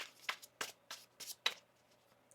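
A tarot card deck is shuffled by hand in a quiet room, with five or six crisp riffling bursts spaced about half a second apart, close and soft.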